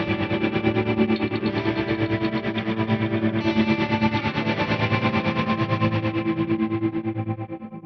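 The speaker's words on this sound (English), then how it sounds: "this undulator preset that I've programmed" An electric guitar plays through a Fractal FM3 undulator preset with a distorted, warbling modulated tone that pulses rhythmically and continuously. The tone sustains with echo and fades slightly at the end, with no talking.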